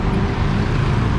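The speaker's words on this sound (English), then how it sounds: "all the traffic going into the center of Chinatown" Busy street traffic in Binondo, Manila's Chinatown, makes a loud, close, continuous rumble of car and motor vehicle engines with no voices.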